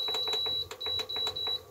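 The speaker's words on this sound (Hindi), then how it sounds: "इसमें टाइमर लगा देती हूँ मैं" A kitchen timer set for boiling eggs gives a quick series of bright electronic beeps, several short tones with tiny gaps, close by over faint kitchen background.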